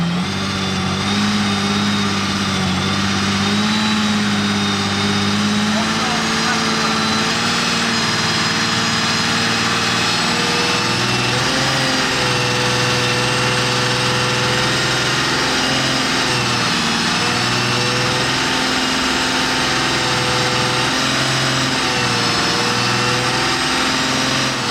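An Aston Martin Valkyrie drives through mud, its engine a loud, close, sustained drone that rises and falls in pitch with revving throughout, with no voices.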